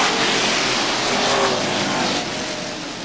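Street stock race cars thunder toward the finish line on an oval track, a dense, sustained engine roar at full throttle that stays loud and close, fading slightly at the end, with no voices over it.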